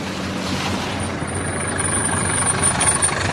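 A taxi engine idles with a steady low rumble and faint hiss, constant and fairly loud throughout, with no voices over it.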